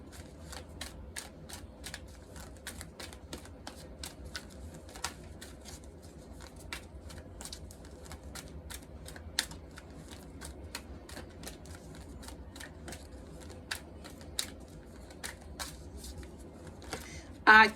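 A deck of cards is shuffled over and over, giving soft rapid riffling clicks in a steady rhythm, close and quiet with low background hum.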